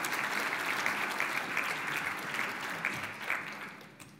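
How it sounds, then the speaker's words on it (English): An audience at a space development conference keynote gives the volunteers a round of applause: dense, steady clapping from a large crowd that holds evenly for about four seconds before easing off slightly at the end. "So give them a round of applause."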